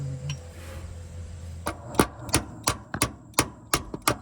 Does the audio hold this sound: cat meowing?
no